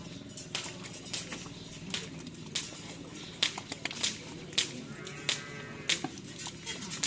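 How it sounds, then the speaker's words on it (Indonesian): Large Madurese racing cattle training for karapan sapi make irregular sharp thuds and clatters close by over a steady outdoor background, with some talk and livestock sounds mixed in. "Jadi sapi itu banyak yang latihan, khususnya sapi-sapi besar guys."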